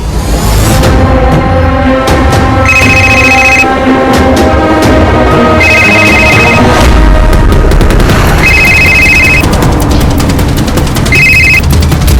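Telephone ringing in a crime drama scene, repeated shrill electronic ring bursts in a regular pattern, loud over heavy booming background music with no talk.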